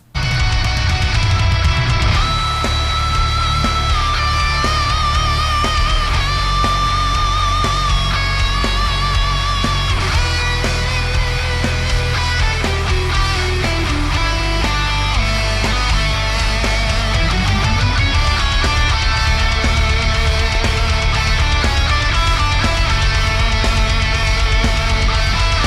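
A mixed lead electric guitar solo with heavy effects plays over a full band backing, sustained bending notes and fast runs, loud and continuous throughout.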